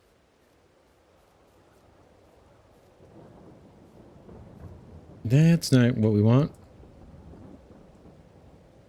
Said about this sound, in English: Uh-oh, I hear thunder.